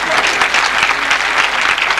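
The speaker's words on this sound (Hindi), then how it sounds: "जोर से भी तालियां बजाएं जरा फिर।" Loud, dense applause from a church seminar audience at a leadership revival gathering, steady clapping filling the whole stretch with faint voices mixed in.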